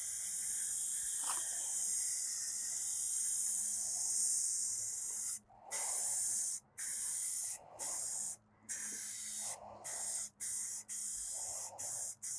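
Rust-Oleum Bonding Primer sprayed from an aerosol can in a long steady hiss, then in a series of short bursts separated by brief pauses, close and fairly loud over a faint low hum.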